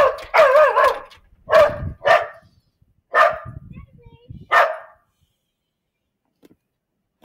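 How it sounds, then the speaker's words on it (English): A dog at a house barks in several loud, close bursts, some doubled and yappy, with pauses between them and quiet after the last one. "It's her dog right there."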